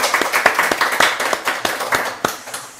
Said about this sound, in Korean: 우리 찬양 받으시고 예배 받으신 하나님 앞에 우리 감사의 박수 한번 드려볼까요?